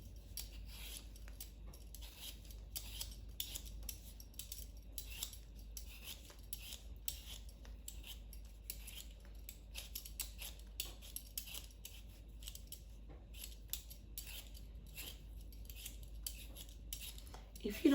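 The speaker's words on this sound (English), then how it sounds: "So I'm going to start peeling the potatoes." Potatoes are peeled for a Thanksgiving potato salad with steady, rapid scraping strokes close to the microphone, repeating throughout without pause.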